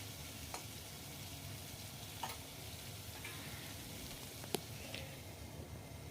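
Potatoes and onions frying in a pan for a Bengali mourola fish jhal, a faint steady sizzle throughout with a few soft clicks of stirring, no voices.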